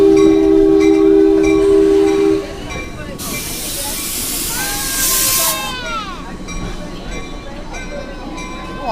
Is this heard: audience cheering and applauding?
no